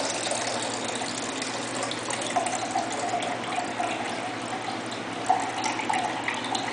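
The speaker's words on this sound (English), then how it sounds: "So I'm going to go ahead and pour on my buttermilk." Buttermilk pours from the spout of a Ninja blender after churning homemade butter, a steady liquid gush running throughout at moderate loudness with small splashy surges.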